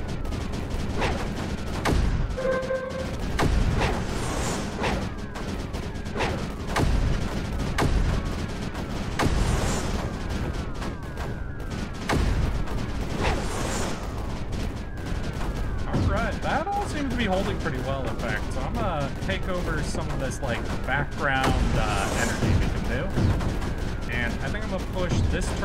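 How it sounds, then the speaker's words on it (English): Mortars and turrets firing in the Creeper World 4 strategy game, a dense continuous barrage of booming shots and crackling impacts layered with game music, loud and unbroken throughout. "Push the mortars up."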